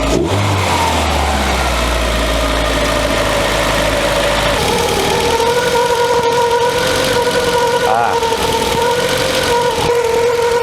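A Volkswagen Scirocco engine runs steadily after a timing adjustment, close and loud, with a deep low rumble easing early on into a smoother, steady idle hum.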